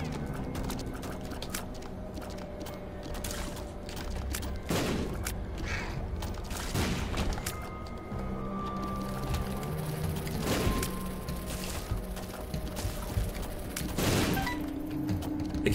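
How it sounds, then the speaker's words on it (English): Explosions go off in the video game The Binding of Isaac: Afterbirth, with several sharp booming bursts spaced a few seconds apart over a dense, continuous bed of game music and effects. "we don't have to worry about the explosions"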